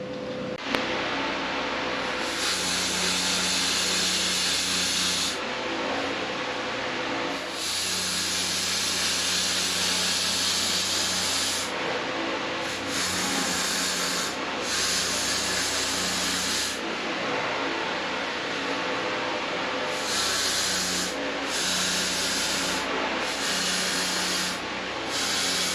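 Welding a steel chassis, long bursts of loud, steady hissing crackle separated by short pauses, close up, with no talking.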